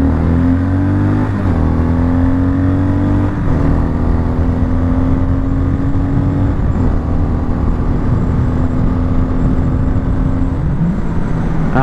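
A brand-new MASH X-Ride 650 motorcycle ridden on a busy road at moderate speed, its single-cylinder engine droning loudly up close, with its pitch dropping and resettling at each of several gear changes.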